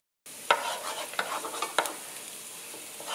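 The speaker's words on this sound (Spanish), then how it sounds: "Aquí ya se está friendo este ajito" Garlic sizzles in a frying pan, a steady close hiss broken by several sharp scraping clicks as it is stirred, with no voices.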